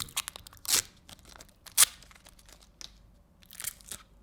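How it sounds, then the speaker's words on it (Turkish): Plastic packaging crinkles and tears in short bursts, close up, with pauses between rips and rustles. "Önce poşetleri sökmekle başlıyorum."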